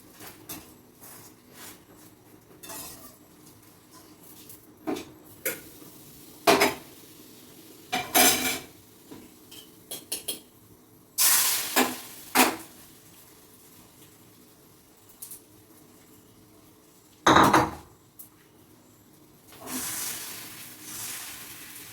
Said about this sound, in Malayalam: നമ്മൾ രണ്ട് മുട്ട പൊരിക്കുകയാണ്